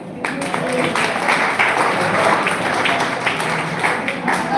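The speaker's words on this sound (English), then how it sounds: "Let's have a clap for Aditi." Steady, dense applause from a large audience fills a government polytechnic hall on National Science Day, many hands clapping together without pause for several seconds at full, even loudness.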